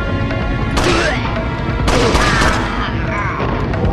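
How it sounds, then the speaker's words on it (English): Loud, booming gunfire from the video game Resident Evil 4 (Separate Ways) fires in heavy overlapping bursts, with a fresh volley near the two-second mark. "I'm shooting you right in the neck"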